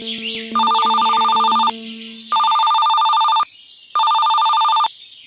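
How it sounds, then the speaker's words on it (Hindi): A telephone rings loudly in three long bursts with pauses between them, an electronic bell tone standing alone after a brief tonal chime. "अचानक एक फ़ोन कॉल आया।"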